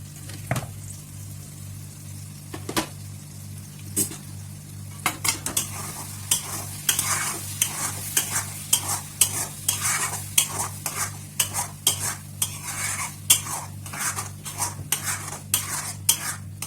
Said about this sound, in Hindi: ये मैं अभी आटा गूंदूंगी